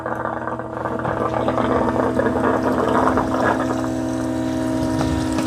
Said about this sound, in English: All right, here comes all the dirty water.